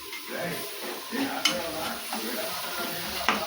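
Okra fry sizzles in a pan while a spoon stirs it, with a continuous soft crackle and a couple of sharper clinks against the pan.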